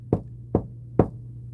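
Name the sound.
knocking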